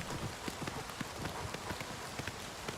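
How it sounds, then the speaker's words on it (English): Horse hooves galloping along a road in The Elder Scrolls IV: Oblivion Remastered, a steady fast clip-clop rhythm of soft repeated thuds under a light ambient hiss. "I guess black horse is very fast."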